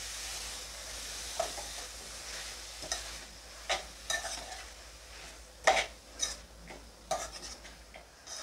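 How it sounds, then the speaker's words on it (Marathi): Shredded cabbage is stir-fried in a pan for a home-style Kokan vegetable dish, giving a quiet, steady sizzle broken by scattered scrapes and clinks of a spoon against the pan. "पुन्हा आपण असं परतून घेऊया।"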